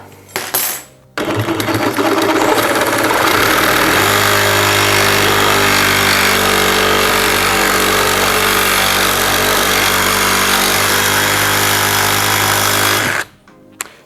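A loud cordless reciprocating saw roars steadily for about twelve seconds after starting up, with a harsh grinding buzz from cutting a metal angle, then stops abruptly.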